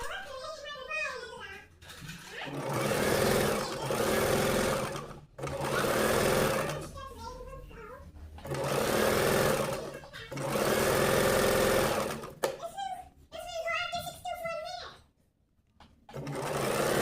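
Sewing machine running pico stitching along a saree edge, with several loud, close bursts of steady whirring separated by short pauses, while someone talks between and over the runs.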